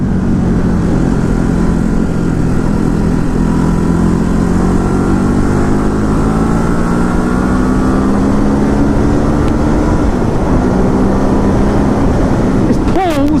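A 2019 Ducati Hypermotard 950 motorcycle engine pulls hard at high speed during a test ride. The loud, continuous drone rises slowly in pitch and sits in heavy wind rush, with a brief shift in tone near the end.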